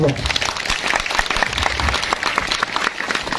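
Audience applause at a village celebration of National Santri Day and the Prophet's birthday in Sembikua: a dense, steady wash of many hands clapping that holds loud throughout.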